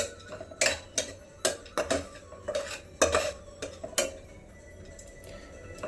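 Roasted seeds being heated and stirred in a pan for ladoos, with a spoon scraping and clinking against the metal in quick irregular strokes, close and fairly quiet.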